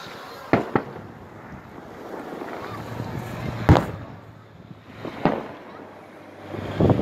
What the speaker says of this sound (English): Firecrackers and like one big roll.